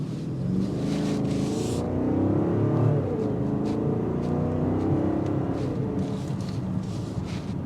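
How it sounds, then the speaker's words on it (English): A BMW M60i SUV accelerates hard from a standstill to 60 mph, a steady loud engine rumble and rising drone heard from inside the car, sustained throughout without talk. "And now to see what that 0 to 60 looks like."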